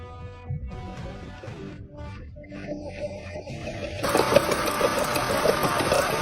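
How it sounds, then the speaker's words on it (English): A starter motor whirs and cranks the engine of a flood-damaged BMW X5 with a steady mechanical drone that grows louder and rougher partway through, close up and continuous. "Let's see if the starter spins."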